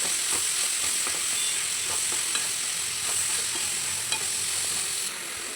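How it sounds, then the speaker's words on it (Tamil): Tomatoes sautéing in a pan for a Tamil-style fish curry, a steady close sizzle with occasional soft stirring scrapes, continuous and even throughout without talk. "தக்காளி போட்டாச்சுன்னா தக்காளி வச்சு நல்லா வதக்கணும்"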